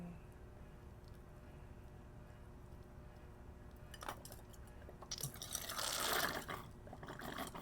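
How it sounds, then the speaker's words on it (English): Distilled water is poured into an anthurium's pot, starting as a faint trickle and swelling into a louder splashing gush near the end in a quiet room. "I'm gonna give this water now because it's really dry."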